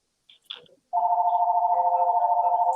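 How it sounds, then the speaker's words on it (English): Phone ringing during a live stream, a short click and rustle followed by a steady, pulsing electronic ring tone that starts abruptly and continues loud and close. "Oh, sorry, that's my phone."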